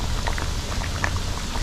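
Curry goat steaming in its own juice with no added water on a Jamaican food truck, a close, continuous bubbling and sizzling patter with small pops, no talking.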